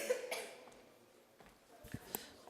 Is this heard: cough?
yes